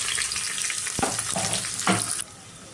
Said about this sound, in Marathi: आता हा उभा चिरलेला कांदा आणि मिरची ॲड करते।